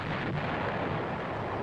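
An M551 Sheridan armored reconnaissance vehicle's main gun fires, a dense, rumbling blast that fills the whole short moment without a distinct onset, heavy and enveloping with no talk.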